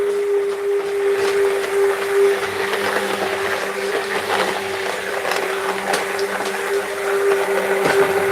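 A stick blender whirs steadily at close range with a constant motor hum, its pitch wavering slightly as it purees thick pumpkin soup.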